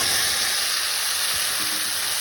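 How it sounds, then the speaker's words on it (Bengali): Potatoes dropped into hot, frying spice masala give a loud, steady, close sizzle with a bright hiss running throughout, alone without talk. "এখন আলুগুলো দিয়ে দেবো।"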